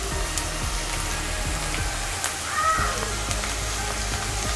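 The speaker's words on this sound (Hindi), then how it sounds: "अब प्याज हमारा हल्का सा सॉफ्ट हो गया है, अब मैं इसमें दाल डाल दे रही हूँ।" Moong dal sizzles in a pan with softened onion over a high flame, a steady crackling fry with occasional sharp pops and light stirring, close and continuous.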